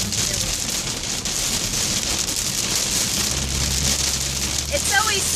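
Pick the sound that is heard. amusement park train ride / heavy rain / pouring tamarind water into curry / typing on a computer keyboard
heavy rain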